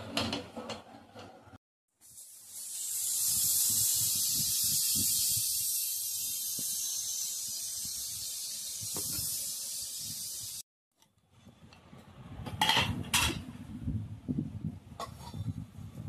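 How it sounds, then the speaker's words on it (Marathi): A pressure cooker cooking vegetable pulao lets out one long, loud, steady hissing whistle lasting several seconds before stopping sharply, framed by softer kitchen clatter before and after. "आता आपण कुकरच्या 2 शिट्या काढून घेऊया."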